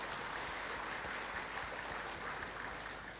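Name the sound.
audience applause at graduation ceremony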